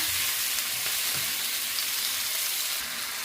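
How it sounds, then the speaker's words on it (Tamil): Tomatoes frying in a pan for a devilled chicken dish, giving a steady, dense sizzle throughout with faint scraping from stirring, close and continuous, no voices. "அதோட வந்து இந்த தக்காளி பழத்தையும் போட்டுக்கொள்ளுறேன் போட்டு இதை நல்லா மிக்ஸ் பண்ணி கொடுப்பேன்"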